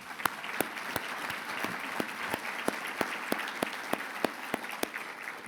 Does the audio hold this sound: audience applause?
yes